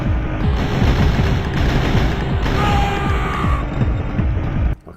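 Enemy gunfire in Turok: Dinosaur Hunter rattles in a loud, continuous stream of rapid shots with booming undertones, close and sustained before cutting off abruptly at the end.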